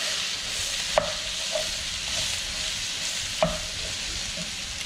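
Shredded cabbage seasoned with salt and pepper cooking in a pan for haluski, a steady close sizzle with two distinct utensil taps against the pan, no talking.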